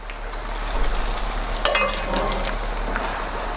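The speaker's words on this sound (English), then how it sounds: "I'll stir it again." Mushroom and sour cream pasta sauce being stirred in a hot pan, with a steady soft sizzle and scraping stir sounds throughout, close and moderately loud, with no talking.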